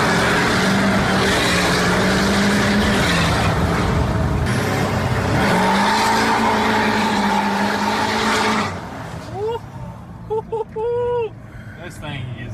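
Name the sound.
2023 Corvette C8 engine accelerating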